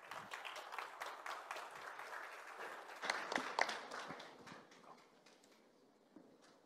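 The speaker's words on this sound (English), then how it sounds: "So a round of applause for my colleague," An audience at a cybersecurity presentation gives a smattering of claps for a speaker. The clapping is faint and sparse, swells briefly near the middle and then thins out toward the end.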